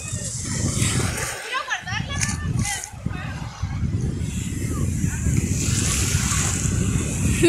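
Ocean surf at San Felipe washes up over belongings on the beach, with steady roaring and splashing water and wind buffeting the microphone, while people talk and shout throughout.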